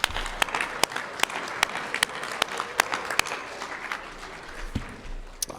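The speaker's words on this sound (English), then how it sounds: "Let's give him a round of applause" An audience at the 2022 USSSA Hall of Fame induction applauds inductee Bill McDowell, with steady clapping and sharp individual claps standing out on top.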